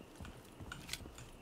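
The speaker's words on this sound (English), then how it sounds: "I hear footsteps up there." Soft, muffled footsteps sound from the floor above in a Tarkov-style shooter game, a few irregular, distant steps set against low ambient noise.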